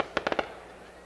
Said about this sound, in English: fireworks blare down the right side of the outfield